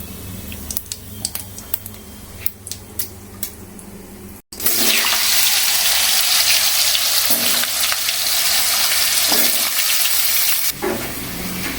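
Oil sizzles in a home pan while a potato, cauliflower and pea curry is being cooked. A few light clinks come first, then a loud, sustained hissing sizzle takes over midway and fades near the end.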